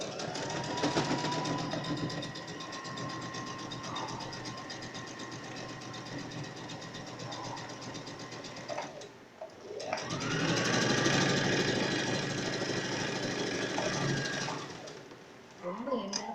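Sewing machine stitching fabric at a fashion design training centre, its steady whirring motor running close and loud for long stretches with a short pause between runs, while someone talks over it.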